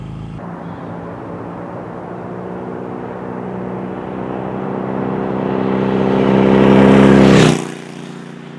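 A Harley-Davidson 883 motorcycle rides on a street, its engine droning steadily and swelling louder as it nears, then dropping off abruptly as it passes.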